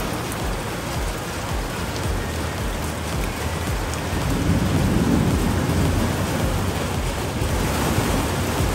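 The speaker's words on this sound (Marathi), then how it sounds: "खतरनाक पाऊस होतोय." Heavy rain pours down in a steady, loud roar, while a low rumble of thunder swells through the middle and rolls on toward the end. No voices are heard.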